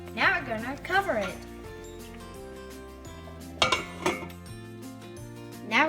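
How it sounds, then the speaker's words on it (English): Pot of BBQ chicken being stirred and covered: metal spoon clinks and scrapes against the pot, then a lid clanks on, close, under a voice talking. "So we stir it around. Now we're gonna cover it."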